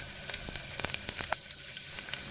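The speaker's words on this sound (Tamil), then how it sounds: "பூண்டு, பூண்டு லைட்டாக ப்ரௌனிஷ் ஆகட்டும்." Garlic fries in a pan as it slowly turns light brown, a faint, even sizzle scattered with small crackles and pops, heard close with no voices.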